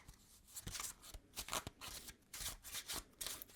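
Deck of playing cards shuffled again and again in a quiet room, with close, crisp riffling bursts separated by brief pauses.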